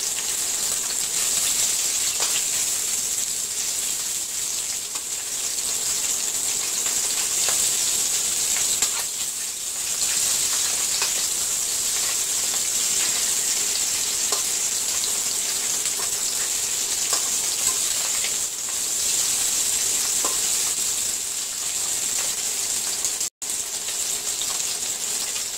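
Fish sizzles in oil over a low flame while frying for Tangra fish curry, a steady, close crackling hiss with scattered pops running throughout, broken by one sharp click near the end.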